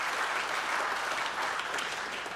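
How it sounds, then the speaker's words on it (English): Audience applause for young innovators at an innovation awards event, a dense, even wash of many hands clapping, sustained and moderately loud with no one speaking over it. "what about a round of applause for all of our young innovators?"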